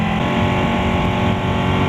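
A 2015 Ducati 899 Panigale motorcycle engine holding a steady, loud, dense drone at fairly constant revs, heard close up while riding, with no voices.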